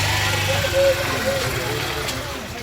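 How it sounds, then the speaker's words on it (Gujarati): A Mercedes car engine starts and settles into a steady low idle close by, with voices talking over it. "હવે અમે મર્સડીઝ ચાલુ કરે છે."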